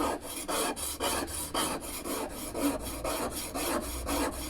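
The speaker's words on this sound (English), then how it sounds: "And as I'm sharpening it, I'm tilting it very slightly." A No. 6 hand plane blade is sharpened by hand on a DMT 250mm DuoSharp diamond whetstone, a close, rhythmic scraping rasp of steady back-and-forth strokes, about two per second.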